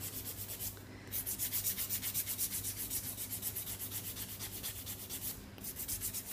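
A nail buffer rubs back and forth over semi-permanent nail polish, a close, steady rhythmic scratchy rasp with a couple of brief pauses and no talking.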